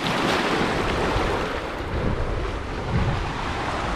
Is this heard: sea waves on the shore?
yes